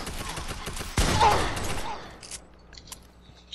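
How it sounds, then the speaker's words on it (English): Fortnite gunfire, a sharp loud blast followed by a decaying rattle of shots and mechanical clatter, fading into quieter scattered game noises. "Sparkle Specialist is shooting at the girl with the green hair"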